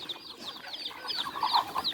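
Chickens cluck in a rural Thai village yard, several birds giving quick overlapping clucks and squawks at moderate distance, growing busier toward the end.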